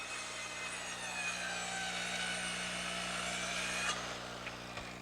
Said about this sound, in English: Then I'll cut it with a saw.